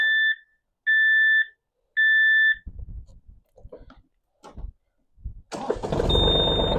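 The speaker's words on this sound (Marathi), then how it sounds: "आपण ट्रॅक्टर चालू करू" Three loud electronic warning beeps, then a Mahindra OJA 2130 tractor's starter cranks in short bursts before the heavy engine catches and roars to life close by, a tone whining over it.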